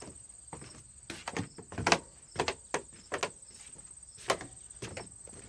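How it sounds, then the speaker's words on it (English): Wooden deck boards on a rehabbed front porch creak and knock underfoot in a series of sharp, irregular clicks and thuds, fairly close, with a faint steady high whine behind them. "A little bit more creaks."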